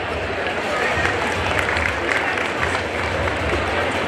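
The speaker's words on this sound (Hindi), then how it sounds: "आपकी तालियाँ उस प्रोत्साहन को 4 चांद लगाएंगी, इसलिए तालियों में कमी ना करें" Steady, dense applause from an audience fills a community award ceremony honoring students, a continuous wash of clapping and crowd noise at close, loud level with no breaks.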